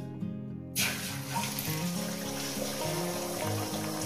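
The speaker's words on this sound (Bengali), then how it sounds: "ডিমটা আমি ভেজে নেব।" An egg drops into hot oil in a wok and sizzles loudly, with a steady dense crackle that runs on without a break.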